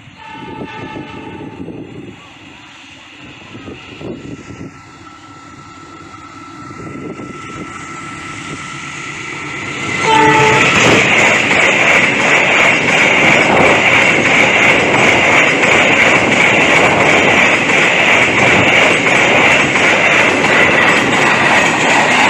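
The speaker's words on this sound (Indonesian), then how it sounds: "nampaknya kereta api gerbong datar" A train hauling flatcar wagons passes close by on a shortcut line before Tanjung Rasa station, approaching quietly and then erupting into a loud, sustained rumble with horn tones as it goes by.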